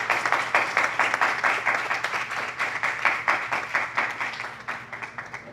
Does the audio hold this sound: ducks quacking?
no